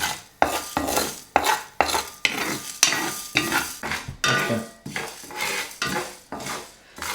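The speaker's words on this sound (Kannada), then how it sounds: "ಇದೇ ಪ್ಯಾನಿಗೆ ನಾನೀಗ ಕೊತ್ತಂಬರಿ, ಜೀರಿಗೆ, ಪೆಪ್ಪರ್ ಮತ್ತು ಮೆಂತೆ ಹಾಕ್ಕೊಳ್ತಿದ್ದೇನೆ. ಸ್ವಲ್ಪ ಲೋ ಫ್ಲೇಮಲ್ಲಿ ರೋಸ್ಟ್ ಮಾಡುವ." Coriander, cumin, pepper and fenugreek dry-roast in a pan over low flame, with repeated scraping and stirring strokes of a spoon against metal and a faint crackle, close and rhythmic, no voices.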